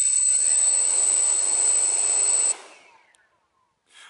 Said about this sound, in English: I'm going to start the motors by doing the CSC.